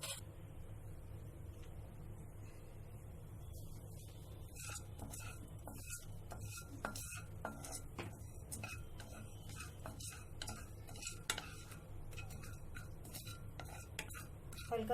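Cumin seeds dry roasting in an oil-free kadhai on a gas flame, soft irregular ticks and scrapes of stirring against the metal over a low steady hum, close and faint.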